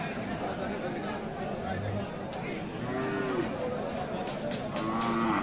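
Cattle low with drawn-out moos amid the steady hubbub of a crowded livestock market at Aftabganj, the animals at moderate distance under constant chatter of voices.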